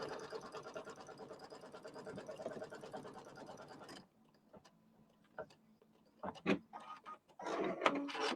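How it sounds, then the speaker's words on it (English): Embroidery machine stitching a tack-down line that holds fabric to stabilizer, a busy rhythmic mechanical chatter for about four seconds, then stopping, leaving quiet gaps with scattered clicks and handling knocks. "I'm going to do step number 4, which is always going to be the tack down line for the fabric."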